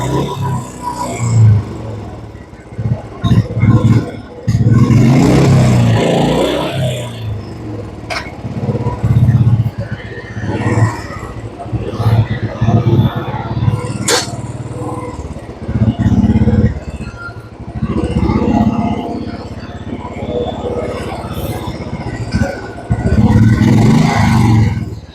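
A used Royal Enfield Bullet motorcycle being ridden, its engine note rising and falling continuously over about 25 seconds, loud and close with some road noise and clatter.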